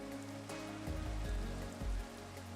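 Rain falls in the Minecraft video game, a steady soft patter with a few heavier thumping swells, close and alone with no talking.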